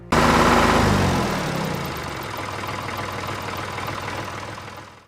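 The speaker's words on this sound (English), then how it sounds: "Look at me great big tractor." A big tractor engine idles, starting with a loud, sudden rumble that settles into a steady, rough low chug, heard close and alone.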